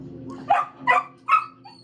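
A dog gives three sharp barks in quick succession, close by, over a low steady hum.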